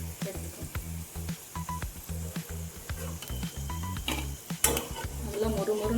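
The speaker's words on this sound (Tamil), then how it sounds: "நல்லா மொறுமொறுன்னு வேக விடும்" Okra (ladies' finger) frying crisply in hot oil, a steady close sizzle with pulsing bubbling and occasional stirring clatter, without talk.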